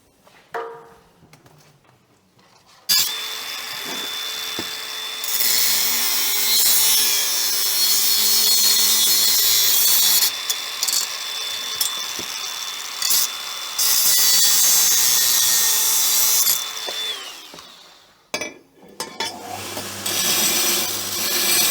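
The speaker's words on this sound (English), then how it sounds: "Let's weld it up" Welding on a Lexus GS430 exhaust pipe, a loud continuous crackling hiss that runs for long stretches with brief breaks and a steady tone, with no voices.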